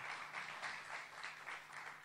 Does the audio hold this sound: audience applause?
yes